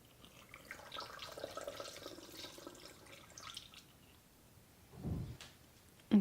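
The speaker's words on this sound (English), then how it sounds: "I've also got a funnel, so we can pour this in here." Cleaning solution poured through a funnel into a small spray bottle: a soft, steady trickle of liquid running for several seconds, then a brief, fuller splash and a small clunk at the end.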